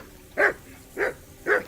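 A dog named Mutt in the video game Kingdom Come: Deliverance II barks three times at an even pace, each bark short and mid-loud against a quiet background.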